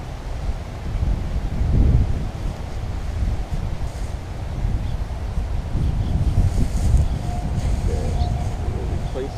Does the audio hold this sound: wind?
yes